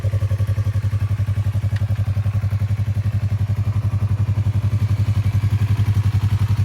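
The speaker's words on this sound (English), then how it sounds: "turn on the ignition and fire up the bike" A lowered motorcycle's engine runs steadily after being fired up, a loud, close, rhythmic throbbing idle that continues evenly throughout with faint mechanical clatter on top.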